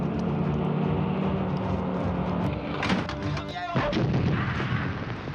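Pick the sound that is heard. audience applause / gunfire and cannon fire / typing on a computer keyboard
gunfire and cannon fire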